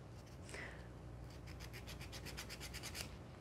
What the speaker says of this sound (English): So I'm filing one side first